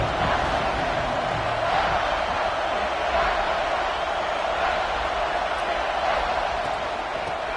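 A dense, steady roar from a stadium crowd fills a college football video game broadcast, constant and loud throughout with no distinct cheers or breaks.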